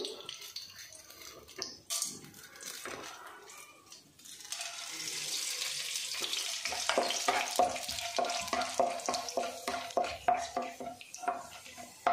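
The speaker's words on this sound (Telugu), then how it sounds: "ఆయిల్ హీట్ అయ్యాక ఆవాలు, శనగబేడలు" Mustard seeds and chana dal frying in hot oil for upma, a crackling sizzle with stirring clatter of a spoon against the pan, building and continuing steadily.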